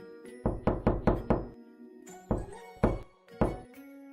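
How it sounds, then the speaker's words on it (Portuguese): Knocking on a door: a quick burst of five firm raps, a short pause, then three more spaced-out knocks, close and dry with nothing else heard. "Lambeu os beiços, sorriu e bateu na porta."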